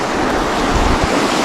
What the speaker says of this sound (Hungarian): Elég jó húz a víz, meg folyik a víz.